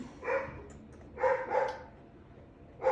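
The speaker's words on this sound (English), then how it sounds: "sorry if you can hear the dogs barking in the background" Dogs barking in the background of a quiet indoor room, with three short bursts of barks at moderate distance, fairly faint and with no talking over them.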